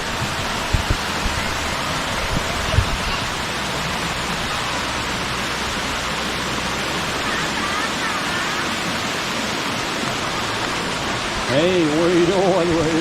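Waterfall water cascading between trees on a Thai farm, a steady loud broadband rush that runs the whole length, with brief low thumps early and a voice rising over the water near the end.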